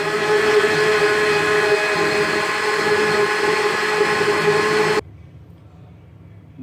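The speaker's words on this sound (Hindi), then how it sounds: "अच्छे से हमने इसको ब्लेंड करना है ताकि जो पाइनएप्पल चंक्स हैं और चीनी वगैरह सब चीज़ें अच्छे से मिक्स हो जाएं" A blender churns pineapple chunks and sugar for a piña colada, a loud steady motor whir that cuts off abruptly after about five seconds, leaving near quiet.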